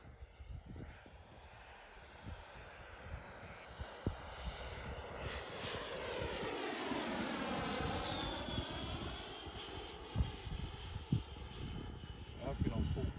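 An HSD F-86 Sabre model jet flies at full throttle at a flying field, with its whine swelling and dropping in pitch as it sweeps past, while people talk nearby.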